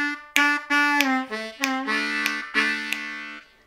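A short blues lick on a G harmonica, a run of clear, close reedy notes with bends, played alone in a quiet room.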